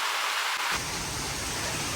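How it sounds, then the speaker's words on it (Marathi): A dense, steady roar of heavy rain fills the whole clip, growing fuller and louder partway through, with no voices. "पाऊस एवढा जास्त एवढा जास्त पाऊस पडतोय"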